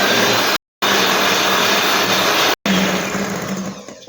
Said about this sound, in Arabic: اذا باش ما نزعجكمش بالصوت تاع الباتور